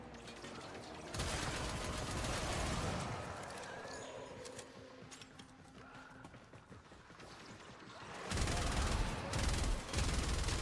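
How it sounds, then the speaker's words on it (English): A slow-firing light machine gun in Warframe, heard as sustained rounds with a steady cadence in long stretches, loud and close, with a heavy burst near the end. "So I think this is like one of the most slow-firing LMGs in the game."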